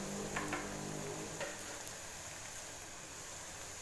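Sliced onions sautéing in a pan for a green peas gravy, a faint continuous crackling sizzle with a few sharper pops early on.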